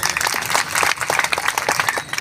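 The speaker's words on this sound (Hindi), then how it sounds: "फुले सिंह भाई के लिए एक बार जोरदार तालियां बजाइए।" Crowd clapping at a tribal community mass gathering in Mandsaur, Madhya Pradesh, with fairly loud, uneven bursts of hand claps from a large outdoor audience.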